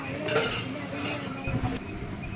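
Banana payasam being stirred in a pot, a steady scraping and clinking of a spoon against metal with a few louder knocks, close and continuous over a low background hum.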